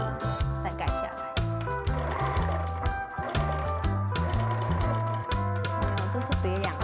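A sewing machine stitches a full circle around the fabric of a lantern bag, running in short bursts of rapid stitching with brief pauses. Each burst has a close, rhythmic mechanical chatter, and speech can be heard over it.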